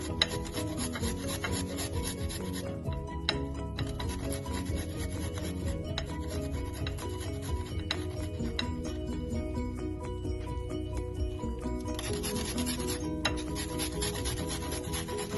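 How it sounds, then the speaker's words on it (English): A clove of garlic is rubbed against a grater for Ghanaian chin chin, a steady, close, continuous rasping scrape lasting the whole stretch without speech. "So I have 1 garlic that I'm going to grate."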